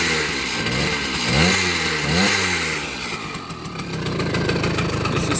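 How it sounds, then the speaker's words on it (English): An old Riga 26 Mini two-stroke moped engine idles up close with a buzzy, uneven putter that swells and dips in brief revs. "It's an old engine, but that's the sound what this moped makes."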